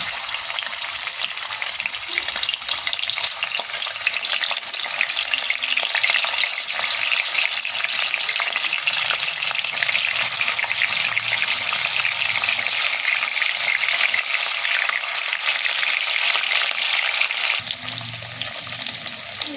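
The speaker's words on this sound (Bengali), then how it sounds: "আমার তেলটা গরম হয়ে গেছে, আমি পনিরগুলো ভেজে নেব" Paneer cubes fry in hot oil, a steady bright sizzle running evenly and close for the whole stretch, with faint stirring scrapes beneath and no voices.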